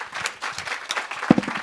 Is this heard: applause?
yes